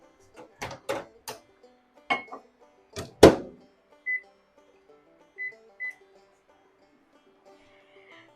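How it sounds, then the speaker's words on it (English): A kitchen microwave oven is set to melt half a stick of butter: several sharp knocks and clicks from the door and handling come first, then a few short keypad beeps, all fairly close in an otherwise quiet room. "I'm going to melt this butter for 30 seconds in the microwave."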